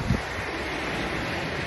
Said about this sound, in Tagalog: Ang lakas ng alon, grabe.